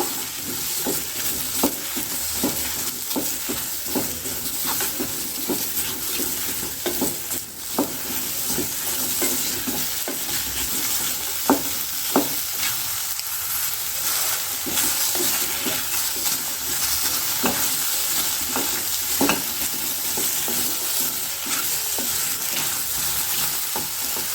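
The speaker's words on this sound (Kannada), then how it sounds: "ಇದನ್ನೀಗ ಸ್ವಲ್ಪ ಎಣ್ಣೆಯಲ್ಲೇ ಹುರ್ಕೋಬೇಕು" Chopped ridge gourd fries in oil in a pan with a steady, close sizzle, while repeated scraping and clicking strokes of stirring cut through it again and again, with no talking.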